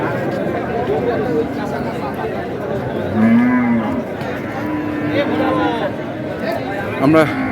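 Cattle, including bulls, moo loudly nearby amid the steady chatter and hubbub of a crowded livestock market in Dinajpur, Bangladesh, with people talking throughout.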